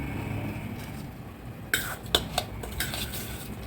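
Soaked rice being stirred in a pot of boiling tomato rice, a few metallic clinks and scrapes of a spoon against the pot over a low background hiss, close and faint.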